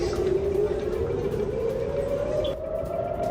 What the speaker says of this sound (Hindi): अभी यहां किरियात शमोना में सायरन बजने की आवाजें आई।